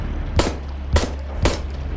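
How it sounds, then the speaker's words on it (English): Gunfire in the video game Signalis: three sharp, punchy shots spaced about half a second apart, each with a brief decaying tail over a low steady background drone. "I guess I started because of the sound of the gunfire"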